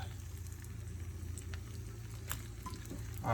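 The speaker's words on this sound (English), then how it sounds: "once we get these mushrooms sauteing, I should turn that up a little bit" Morel mushrooms sauteing in half a cup of butter give a steady, soft sizzle and light crackle close by, with a faint stirring clatter partway through and no talk.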